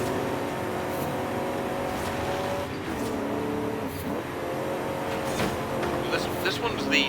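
Ford EcoBoost truck engine in Forza Horizon 5, a steady droning engine note held throughout with rising revs near the end, under people talking.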